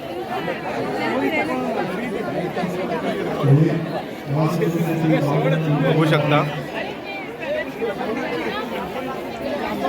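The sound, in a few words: large crowd chattering at Mahalakshmi temple, Kolhapur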